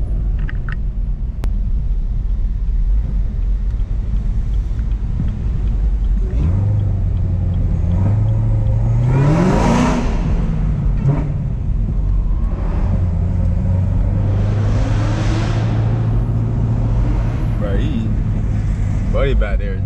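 Chevrolet Camaro ZL1 engines at roughly 1,000 hp revving and pulling hard in traffic, a loud continuous low rumble with rising rev sweeps around the middle and again later, with voices talking over it.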